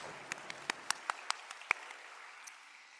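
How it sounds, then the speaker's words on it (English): Scattered, sparse applause: a handful of distinct claps ring out in a quiet room, thinning out and stopping after a couple of seconds. "just one more round of applause for TASA staff"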